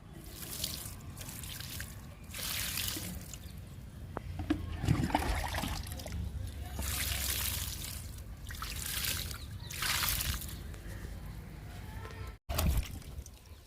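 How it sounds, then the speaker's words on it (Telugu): Close, uneven bursts of water splashing and trickling onto bottle gourd seeds sown in a soil-filled tub, pausing briefly between pours, with no voices. "సొరెత్తనాలకి వాటర్ ఇస్తున్నా."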